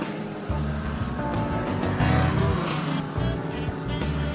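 Race cars competing at the United States Grand Prix at Sebring, heard as a continuous loud engine roar with surging passes and shifting intensity, close and dense throughout.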